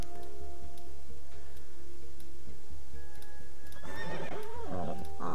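A horse in the farm game Horse Haven World Adventures gives a bright, close whinny when petted, rising near the end over a low, steady background tone and soft ticking game sounds.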